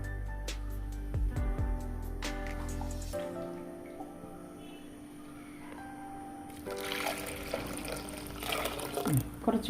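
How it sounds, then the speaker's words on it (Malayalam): Water is poured into a stone pot of pepper rasam, making close splashing and trickling with some dripping. A quieter stretch follows before a second, fuller pour with gurgling near the end. "എത്ര വെള്ളം ഒഴിച്ചാലും കുഴപ്പമില്ലല്ലോ"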